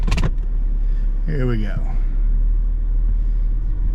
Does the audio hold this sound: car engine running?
yes